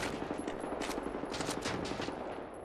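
Gunfire in the video game Wolfenstein: The New Order, rapid bursts of shots crackling in quick succession at moderate volume, with a dense rattling rhythm and no talking.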